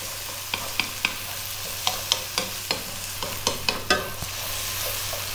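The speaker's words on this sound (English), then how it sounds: "we're going to go for 2 more minutes stirring pretty much all the time. We're on a very high heat, maximum heat you need" Celery being stir-fried over maximum heat in an Asian home-cooking setting: a steady sizzle with a string of sharp spatula scrapes and knocks against the pan, close and fairly loud, with no voices.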